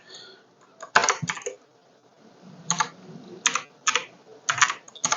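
A folder path is typed on a computer keyboard in irregular bursts of crisp, close keystrokes with short pauses between groups, and no talking.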